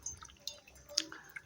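Coconut water drains from a cracked coconut in faint, sparse drips and small splashes, a few quiet liquid ticks scattered across a near-silent moment.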